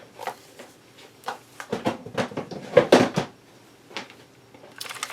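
Several dull knocks and scrapes of a drawer of scrapbooking supplies being opened or closed, with items inside shifting and clattering, close by in a quiet room and with no speech.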